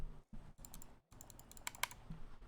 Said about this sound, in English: I'm clicking and it won't let me fire.